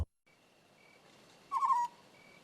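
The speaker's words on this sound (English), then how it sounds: "Owl." An owl call in a compilation of animal sounds: a single brief hoot-like call rises over faint background hiss, heard alone with no voices.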